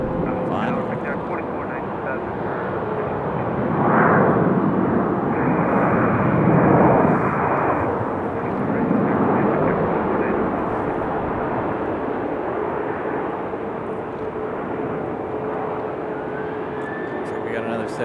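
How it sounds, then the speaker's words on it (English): A Copa Airlines airliner taxis at Raleigh-Durham International Airport, its engines giving a steady, broad roar that swells slightly midway and holds at moderate distance, with voices talking over it. "Copa Airlines on the move now."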